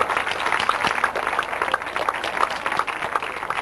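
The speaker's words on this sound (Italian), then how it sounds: "facciamo un applauso a tutte le mamme che sono qua" Audience applause for the mothers at a Mother's Day celebration during a parish gathering, a steady wash of many hands clapping, moderately loud and continuous with no speech over it.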